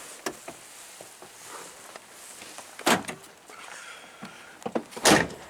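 A car door shutting inside a home garage, a couple of solid thumps amid light handling clatter and faint movement, with no talking.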